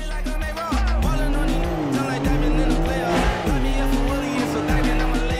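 A car driven hard and fast, its engine revving loud and steady with rising and falling pitch, punctuated by tire squeals, running the whole time.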